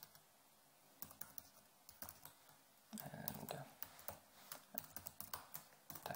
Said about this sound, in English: Type in password here.